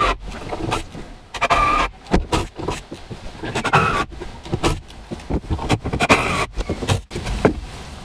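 Small screws being driven into a wooden BMX mini ramp, a run of close, uneven grinding and clicking bursts with short pauses between turns.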